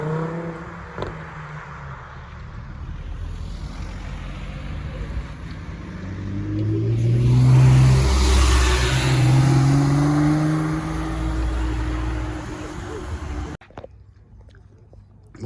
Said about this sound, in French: on entend les derniers participants du rallye